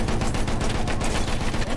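Sustained machine gun fire in the video game Battlefield 2042 rattles loudly and continuously, dense and close, with no pause.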